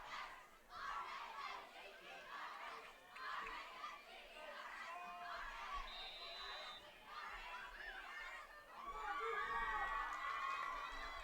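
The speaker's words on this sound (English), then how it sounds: "Kemmerer fans on their feet, doing their customary cheer here as the students have a reason to cheer" Kemmerer football fans rise in the stands for their customary cheer at a high school game against Lyman, a dense crowd roar of shouting students sustained throughout and swelling louder near the end.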